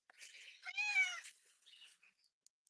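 A pet cat in a garden meows in short, close calls, one long rising-and-falling meow in the middle with softer chirps around it, set against quiet surroundings.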